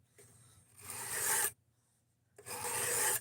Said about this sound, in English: we're on 200 grit on a much, much coarser diamond stone than anything that Harbor Freight has on it